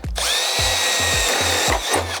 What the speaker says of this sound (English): Now I like to drill all these holes now and then turn it over to make it easier.